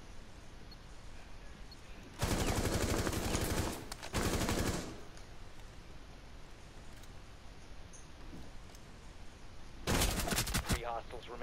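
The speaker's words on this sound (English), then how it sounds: "Should I shoot someone maybe through the wall?" Bursts of rapid automatic gunfire fired through a wall in Rainbow Six Siege, two long close rattling volleys early on, then another short burst after a quieter stretch of faint background.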